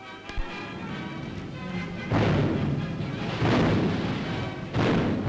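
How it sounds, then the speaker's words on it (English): Wartime artillery fire from Soviet forces fighting the Nazis in World War II: a low, continuous subterranean rumble broken by several heavy, booming stabs of gunfire that swell and fade over a few seconds. "The subterranean rumble now becomes interspersed with sporadic stabs of artillery fire."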